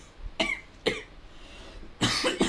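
A person coughs in a grassy field at the end of summer, with two separate single coughs and then a harsher double cough at the end, fairly close and loud, with no talk.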